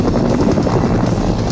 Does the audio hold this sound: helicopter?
yes